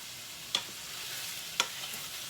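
Chicken seasoned with garlic powder and onion powder sizzles in a pan under a soft steady hiss, with two distinct sharp clicks of a utensil being stirred against the pan.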